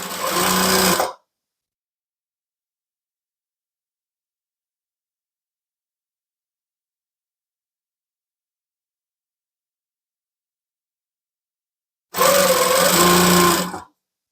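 A sewing machine stitches ribbon onto a tutu in two short, fast whirring bursts at the start and end, separated by a long stretch of silence.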